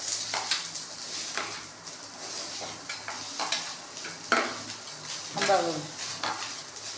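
Small onions sautéing in a pan for fish curry, continuous sizzle under repeated scraping and clinking strokes of a spoon against the pan, close and fairly loud, with no talking.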